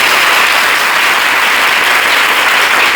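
Audience applause at a Tharasthuthi religious gathering: dense, continuous clapping from a large crowd, loud and even throughout with no pauses.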